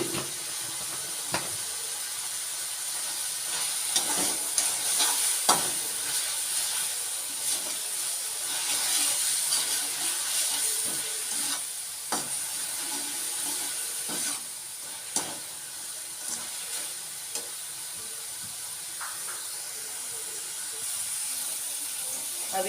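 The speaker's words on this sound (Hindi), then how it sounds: "अब ये टमाटर अच्छे से फ्राई हो गए हैं" Tomatoes fry with salt in a pan, a constant close sizzle and hiss punctuated by sharp clicks and knocks of a spoon against the pan, with no talking over it.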